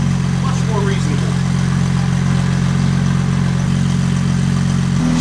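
A Porsche 996 Turbo with a titanium exhaust idles smoothly once warmed up, a steady, close, low burbling drone with a faint rhythmic pulse that holds evenly throughout.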